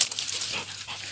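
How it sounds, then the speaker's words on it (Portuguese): Hunting dogs bayed at a burrow, panting and whimpering briefly up close in a short burst of breathy, excited canine sounds. "Os cachorros acuados no buraco."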